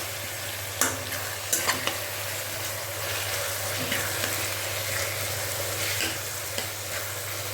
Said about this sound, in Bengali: আঁচটা বাড়িয়ে দিয়ে আমি এই মিক্সচারটা ভাজা ভাজা করছি